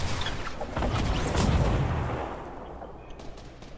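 Rapid gunfire from a newly picked-up weapon in a shooter video game, a dense burst of loud blasts that swells for about two seconds and then trails off into sparser, fainter distant shots.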